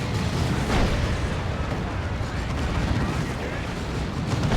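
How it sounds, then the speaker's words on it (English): Lascannons fire in the Dawn of War 2 strategy game during a battle around a Land Raider, a dense wash of heavy blasts and explosions that continues without a break under game noise. "2 las cannons getting shots."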